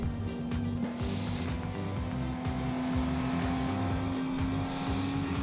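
A car drives steadily in the Roblox game Driving Empire, its engine drone loud and continuous throughout with no talk over it.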